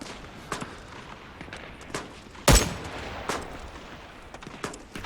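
Sniper rifle shots fired in the Vietnam-era shooter game Rising Storm 2: Vietnam, one loud sharp crack standing out midway among several fainter distant pops and cracks of background gunfire.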